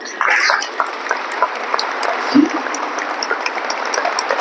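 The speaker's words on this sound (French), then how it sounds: "On va applaudir un peu." An audience at a Saint Joseph conference applauds in a hall. The clapping is steady and moderately loud, holding an even wash for several seconds, with a brief low thump partway through.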